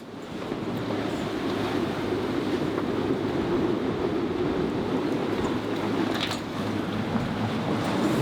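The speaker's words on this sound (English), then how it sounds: "we've seen up to 38 knots of wind now" Strong wind of around 40 knots roars steadily over a sailboat at sea between Aruba and Curaçao, a loud continuous rush with microphone buffeting and the wash of waves underneath, with no talking.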